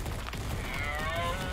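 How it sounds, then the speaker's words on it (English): A sheep in the Ark Survival Evolved video game gives a drawn-out, wavering bleat, close and clear over steady in-game ambience. "Come here, sheep."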